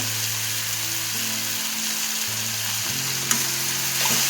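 Drumstick flesh sautéing in a pan for a Tamil thokku, a loud continuous close sizzle with a steady hiss and a brief stir clink near the end, no voices.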